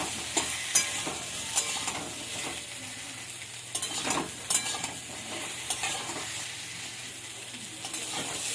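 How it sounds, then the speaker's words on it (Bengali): Raw banana pieces fry in a pan alongside drumstick vegetable and potatoes, a continuous near sizzle broken by repeated stirring scrapes and occasional light clatter of a utensil. "কাঁচকলাটাও একটু ভাজা ভাজা করে নেবো ডাঁটার সঙ্গে,"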